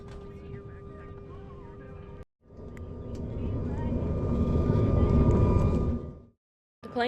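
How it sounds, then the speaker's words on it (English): Constant loud engine drone and rushing white noise inside a small passenger airplane in flight, swelling to a peak, with brief silent cuts between sections. "The plane was also much louder than I expected."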